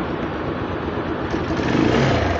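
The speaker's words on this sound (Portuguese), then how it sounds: "Vamos dar aquela acelerada?" Dafra Speed 150cc motorcycle engine running steadily close by, a continuous broadband drone that swells slightly toward the end as the throttle opens, with no talk over it.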